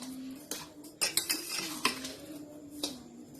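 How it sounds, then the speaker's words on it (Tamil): Wheat flour puttu being stirred with sugar in a pot, giving scattered close utensil scrapes and clinks against the pot, several sharper knocks spread irregularly over a few seconds. "நல்லா பெரட்டி விட்டுக்கோங்க."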